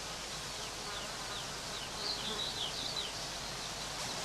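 Heather bees foraging on heathland buzz in a steady, faint hum that holds throughout, with soft high chirps from birds drifting in the background.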